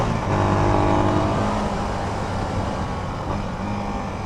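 An SWM Outlaw 500 motorcycle engine pulls steadily during a short town ride, a loud continuous drone with rising harmonic tones that eases slightly as it goes on, with no voices.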